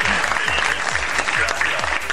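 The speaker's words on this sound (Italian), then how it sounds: "io ti faccio gli applausi" A television studio audience on an Italian variety show about scooters bursts into loud, sustained applause, dense clapping throughout with a faint voice underneath.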